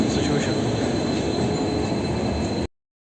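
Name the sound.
train passing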